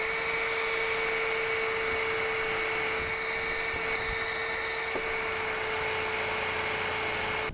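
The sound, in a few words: drill pre-drilling holes in cedar boards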